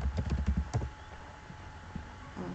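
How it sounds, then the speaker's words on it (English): Computer keyboard tapped as a URL is typed into Word, a short burst of soft close keystrokes followed by quiet with one or two stray taps. "then you just type in your URL"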